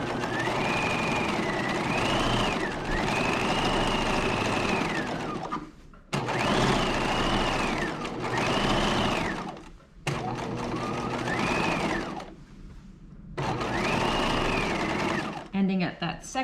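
A sewing machine runs a long gathering stitch for a top, whirring loudly in several sustained bursts with short pauses between them, the motor pitch rising and falling within each run.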